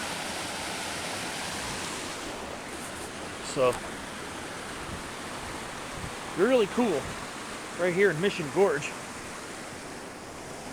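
A rain-swollen creek rushes through its bed in Mission Gorge, a continuous broad roar of water that carries on beneath short bursts of someone talking.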